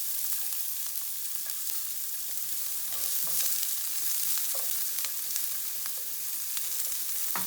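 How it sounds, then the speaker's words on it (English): White onion frying in a tablespoon of olive oil in a clean pan, a steady dense sizzle with small pops and crackles running throughout, close and fairly quiet, with no talking. "in this clean pan, I have 1 tablespoon of olive oil just to brown this white onion"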